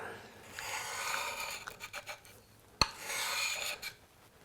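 A small V-tool carving gouge being sharpened, drawn back and rolled side to side across an abrasive in repeated raspy strokes, close and fairly quiet, with one sharp click partway through.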